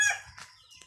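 A rooster, a four-time-winning fighting cock from Bantayan island, gives a short, close crow tail and then a couple of soft clucks.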